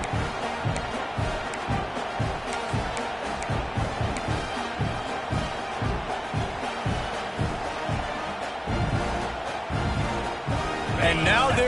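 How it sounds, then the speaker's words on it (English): Stadium crowd noise from a College Football 26 video game swells steadily under a play-by-play commentator as fans rise for a two-point conversion attempt, growing louder near the end. "this crowd rises up to try to make it tough"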